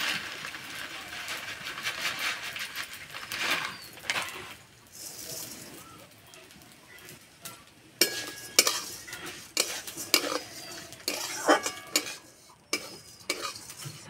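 Semai vermicelli frying in a pan over low heat while a utensil stirs it, with irregular scraping and clinking strokes that grow sharper and more frequent toward the end and a faint sizzle beneath.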